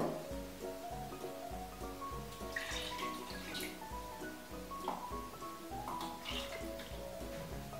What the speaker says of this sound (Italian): possiamo aggiungere l'acqua e l'olio.